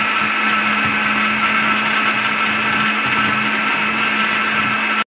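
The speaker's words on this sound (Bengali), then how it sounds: "এখন আমি এটাকে ব্লেন্ড করতে নিয়ে যাই।" A blender whirs steadily at high speed, blending watermelon juice in one loud, constant drone that cuts off abruptly at the end.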